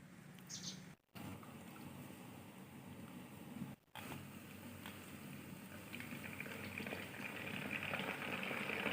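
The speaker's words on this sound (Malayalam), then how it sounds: "ചിപ്സ് പകുതി മൂപ്പാകുമ്പോൾ ഒരു സ്പൂൺ ഉപ്പുവെള്ളം ചേർത്ത് കൊടുക്കാം" Banana chips frying in hot oil with a spoonful of salt water added partway through, a steady broadband bubbling hiss that briefly cuts out twice and then swells louder toward the end, with no voices.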